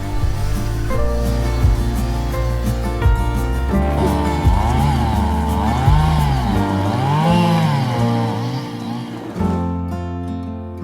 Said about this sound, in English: used his huge drill to cut through to the water below